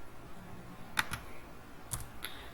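Someone types a number on a computer keyboard while writing a C program, giving a few sharp, close key clicks spread over a couple of seconds, alone without talk.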